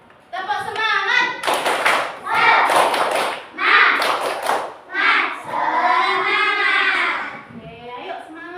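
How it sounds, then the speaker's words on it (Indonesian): A class of children does a rhythmic spirit clap in a third-grade science lesson, several bursts of patterned clapping and thumps, close and loud, mixed with children's voices and chanting. "Kita tepuk semangat dulu. Tepuk semangat."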